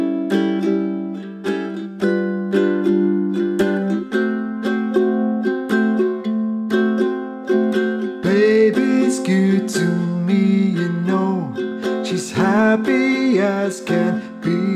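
A ukulele plays the intro riff of a song slowly, with plucked, ringing notes in a steady repeating pattern. Faster strummed chords follow, and all of it sits close and solo.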